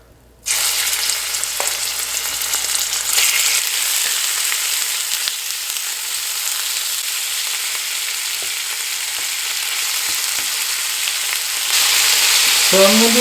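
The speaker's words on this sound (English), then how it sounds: "with the 2 tablespoons of olive oil, I'm going to fry this lamb" One pound of lamb hits two tablespoons of olive oil in a hot cast iron pan, bursting into a loud, steady sizzle that continues close up for the rest of the clip without any talking.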